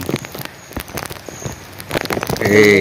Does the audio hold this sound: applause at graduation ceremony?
no